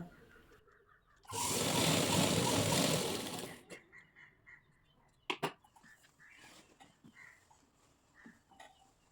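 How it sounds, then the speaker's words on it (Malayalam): A sewing machine stitches lined pants in one continuous loud whirring run of about two seconds, then stops, followed by quieter clicks and handling noises of the fabric. "താഴെ നിന്നും മുകളിലേക്ക് സ്റ്റിച്ച് ചെയ്ത് പോവുക അപ്പോൾ ഞാനിവിടെ താഴേക്ക് തന്നെ സ്റ്റിച്ച് ചെയ്ത് പോവുകയാണ്"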